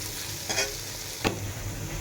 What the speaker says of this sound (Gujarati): આ લસણવાળી ચટણી જે ખાંડેલી છે એ આમાં આપણે એડ કરી દઈશું અને સરસ આપણે મિક્સ થઈ જાય એ રીતે આપણે મિક્સ કરવાની છે